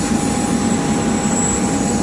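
A large airliner's jet engine roars at an airport. The roar is loud, broad and continuous with a steady whine, close by, and no talk is heard over it.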